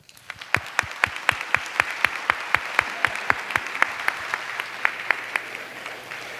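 Applause from a crowd at a Waukegan High School summer promotion ceremony, with strong, steady clapping that carries on for several seconds and shows sharp individual claps rising above the general patter.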